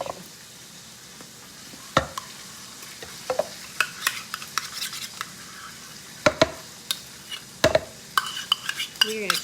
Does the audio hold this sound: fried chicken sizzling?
yes